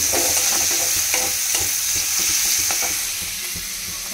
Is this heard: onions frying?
yes